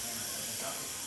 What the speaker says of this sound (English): Then it's going to start pushing steam out